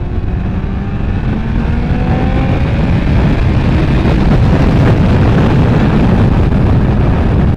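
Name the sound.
Kawasaki ZX14R motorcycle riding through traffic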